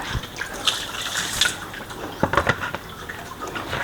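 Water splashes and gurgles as it is poured out of a pot in a steady stream while cleaning pork intestines, with a few louder sloshes and drips near the end.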